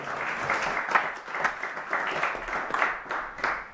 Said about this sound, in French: Let us put our hands together.